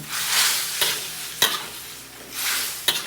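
Beef intestine adobo being stirred in a pan, with repeated scraping strokes of the spoon over a steady sizzle of frying liquid, close and fairly loud, no talking.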